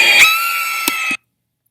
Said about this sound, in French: Le vampire a très peur et il crie.